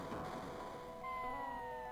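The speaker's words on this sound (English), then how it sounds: "Oh, there's the cat." A cat meows in the Chrono Trigger video game, one drawn-out, clear meow over faint background game music, with no talking.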